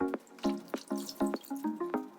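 Water in a bowl splashes and drips rhythmically as a cotton t-shirt is dampened, with about eight evenly spaced wet plops and trickles, close and moderately loud.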